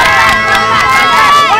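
A high school girls' volleyball team yells together in a huddle, a burst of loud, overlapping shouted cheering voices close by, sustained without pause.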